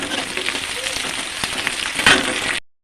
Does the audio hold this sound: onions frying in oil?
yes